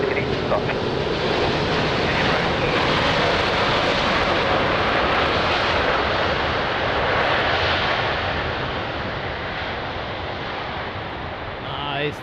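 Jet airliner engines roar at Lisbon Airport as a plane powers up on the runway, a loud broad sustained rumble that swells, then slowly eases, with radio-style talk heard over it.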